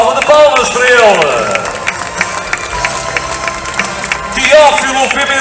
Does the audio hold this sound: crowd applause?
yes